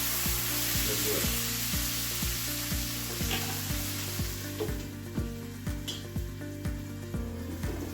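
Fish curry made with large anchovies sizzles and fries steadily in a pan while being stirred, with scraping stir strokes breaking through a continuous loud hiss and no talking.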